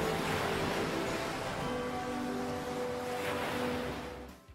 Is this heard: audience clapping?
no